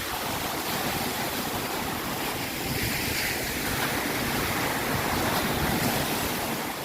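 Surf rolls steadily onto a Thai beach at Phayun, Ban Chang in Rayong, a continuous broad wash of breaking waves with some wind across the microphone, loud and unbroken throughout.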